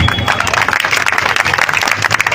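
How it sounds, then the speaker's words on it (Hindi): A standing audience at a legislators' gathering claps loudly and steadily for a re-elected MLA, a dense continuous wash of applause throughout. "एक बार खड़े होकर जोरदार तालियां बजाएं"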